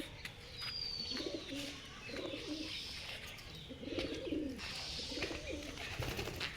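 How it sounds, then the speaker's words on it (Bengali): Several pigeons coo while feeding in low, repeated bubbling calls, about four phrases spaced out over a steady background hiss, nearby and soft. "কবুতর খাওয়া দাওয়া করছে।"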